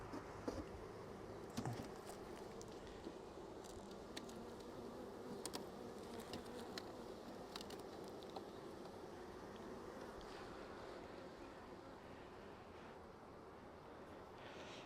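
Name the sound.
honeybees buzzing in an open hive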